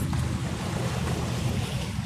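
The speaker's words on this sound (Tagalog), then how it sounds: "Yan yung pag nalaki yung dagat, ayun." Sea waves along the Hong Kong coast near a coastal defence site churn as a steady, fairly loud low rush, mixed with wind buffeting the microphone and no voices.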